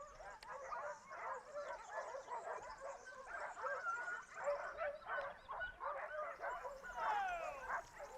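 A pack of hunting dogs bays and yelps continuously in the distance during a hunt, faint and overlapping, a steady excited chorus.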